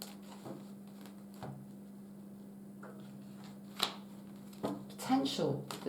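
Tarot cards are shuffled during a reading, with soft riffling patters and a few crisp snaps, the busiest burst near the end, over a faint steady hum.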